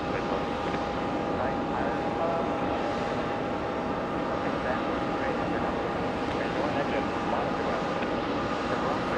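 An Air India Boeing 777 taxiing at JFK airport, a steady, loud, broad jet engine roar with a faint whine, continuous throughout.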